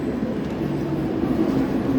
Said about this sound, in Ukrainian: Там прибувають поїзди.